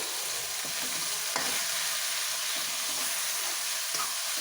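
Ginger, garlic and chopped onions frying in a pan, a continuous bright sizzle with light stirring scrapes throughout, fairly close and steady.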